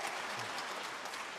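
Audience applause at a public debate between a physicist and a theologian, a dense steady wash of clapping from a large hall crowd lasting the whole short moment without a break.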